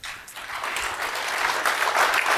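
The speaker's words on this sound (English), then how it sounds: "They were clapping for you, man." An audience applauds at the close of a technical conference session, steady clapping from a large crowd that swells slightly toward the end, with no speech over it.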